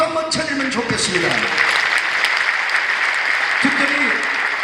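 A church congregation in a large Korean sanctuary applauds during an Easter joint worship service, dense clapping continuing throughout as a voice talks over it near the start and end.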